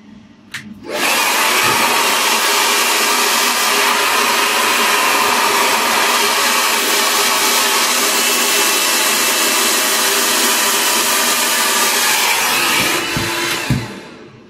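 A GHD Helios hair dryer kicks on and blows a loud, powerful, steady rushing whoosh at close range for about thirteen seconds before cutting off abruptly.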